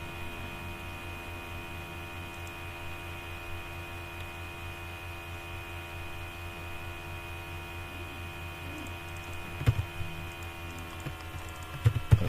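Computer keyboard typing, faint and intermittent over a steady electrical mains hum, with a few louder key clicks toward the end.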